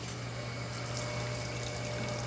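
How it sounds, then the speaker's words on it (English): Gaggia Academia espresso machine pumping hot water from its spout, a steady close pump hum under a continuous hiss of flowing water, even and unbroken throughout. "So now that it's hot enough, it's going to start pumping water out through here."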